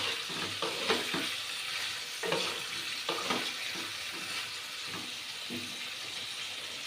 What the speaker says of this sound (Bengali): আর এবার কাঁকরোলগুলো একটু ভেজে নেব।